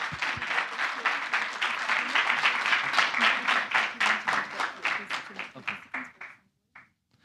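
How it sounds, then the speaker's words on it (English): Applause from a demo day audience honoring a winning team, dense clapping that builds, then thins into separate claps and stops near the end. "Pictures and applause, please."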